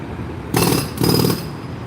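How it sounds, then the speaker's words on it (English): A jackhammer breaking a sidewalk on a Chicago street: two loud bursts of harsh, broadband pounding, each about half a second long, separated by a short pause over a low background hum. "Here's the jackhammer working on the sidewalk."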